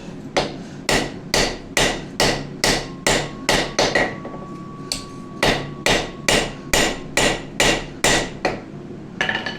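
A hammer forges a steel Santoku chef knife blade, striking in a steady rhythm of loud ringing blows, about twenty in all with a brief pause midway.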